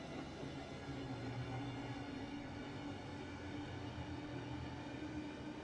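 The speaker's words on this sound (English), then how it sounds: "Oh, I love the exterior sounds of the train." Exterior sound of a Southeastern Highspeed electric train in Train Sim World 3, a steady low rumble and rolling hiss of the running train that continues evenly and faintly with no talking.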